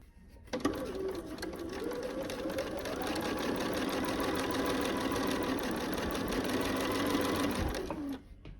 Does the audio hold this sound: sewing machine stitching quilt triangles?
yes